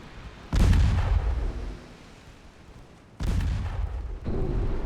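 Torpedoes strike a warship in the naval game Ultimate Admiral Dreadnoughts. Two heavy, booming explosions are heard a few seconds apart, then a third impact right after, over a low background rumble.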